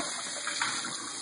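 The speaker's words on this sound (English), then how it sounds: "Now I'll run cold water." Cold tap water runs in a steady hiss and splash while a squirrel is being cleaned, a faint, continuous gush without talk.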